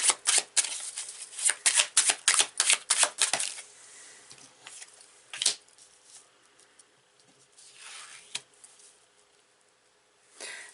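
Tarot cards riffle and slap in a quick burst of shuffles up close, then the sound settles into softer scattered card handling and sliding.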